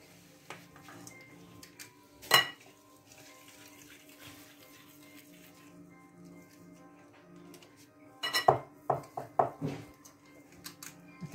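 Shaped oat and dried fruit cookies are set onto a baking tray in a quiet kitchen: a single light clink, a long lull, then a cluster of soft metallic taps and clinks near the end.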